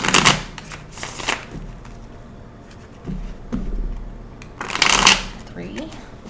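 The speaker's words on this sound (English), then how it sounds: "I'm going to go ahead and shuffle 5 times" Cards are shuffled in two quick riffle bursts, near and crisp, separated by a quieter stretch of handling noise and faint movement.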